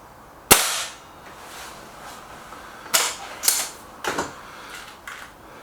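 An SMK Model 19 Supergrade spring air rifle fires at a paper target, one sharp loud crack up close followed by several softer clicks and knocks of handling, with no talk.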